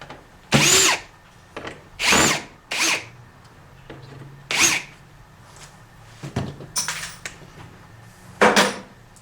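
A power drill removes hinges from kitchen cabinets, with several short whirring bursts separated by pauses and faint metallic clinks, close by.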